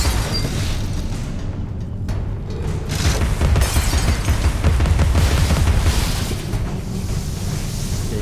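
Gunfire and blasts in the video game Alice: Madness Returns, a dense, loud, continuous barrage of booms and sharp cracks that swell in the middle and hold steady without a break.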